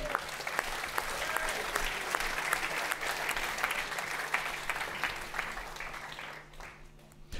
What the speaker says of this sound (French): Oui, vous pouvez applaudir, c'est vrai.